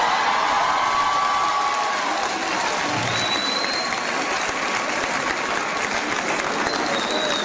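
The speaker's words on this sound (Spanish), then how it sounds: "fuerte aplauso" Loud, dense audience applause fills a circus show of Circo Timoteo, a steady wash of clapping with scattered cheers that holds without a break.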